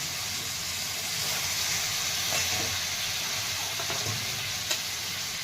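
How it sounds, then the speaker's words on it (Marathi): Chopped eggplant sizzles and fries in hot masala for Maharashtrian khengat, a steady bright hiss with occasional stirring clinks throughout, no voices. "छान असं परतून निघतं ह्यामध्ये मसाल्यामध्ये"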